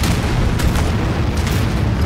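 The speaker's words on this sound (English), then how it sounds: "Nuclear missile. Fire." A nuclear missile strike detonates in the video game Anno 2205, a loud deep rumbling boom that rolls continuously with a few sharper crackling bursts layered on top.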